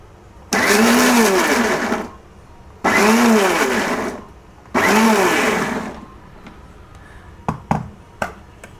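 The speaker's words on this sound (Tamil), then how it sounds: "இது கொஞ்சம் மிக்சியில் ஒரு மோல்ட்டில் ஒரு சுற்று சுற்றினோம்னா போதுங்க" A mixer grinder pulses brinjal for Chettinadu kothsumalli in three loud, steady whirring bursts of about a second and a half each, followed by a few sharp clicks and knocks.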